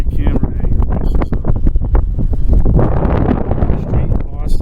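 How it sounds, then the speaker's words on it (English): Wind buffets a microphone outdoors on an abandoned movie set on a Boston street, producing heavy low rumbling gusts under someone talking. "Sorry, it's a little windy."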